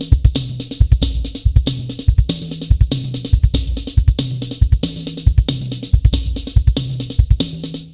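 Flams played in a steady repeating pattern around the drum kit's toms, each double-stroke hit sharp and loud, with cymbal wash riding over the top and no talking.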